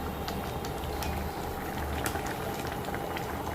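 Curry bubbling in a covered pot, ready to take fried fish and prawns along with taro; a steady, close, dense simmering rumble that carries on without a break and with no talk.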